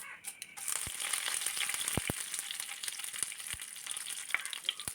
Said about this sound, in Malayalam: കടുക് പൊട്ടിക്കഴിയുമ്പോൾ ഒരു തണ്ട് കറിവേപ്പിലയും കൂടി ഇട്ട് കൊടുക്കാം.